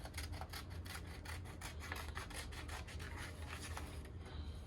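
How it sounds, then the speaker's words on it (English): Craft flower petals being cut from a kit sheet for a Mother's Day project: a steady, close scratchy rasping runs continuously, with quick repeated snips and rubbing strokes and no talking. "So we're gonna start cutting out petals out of there, okay?"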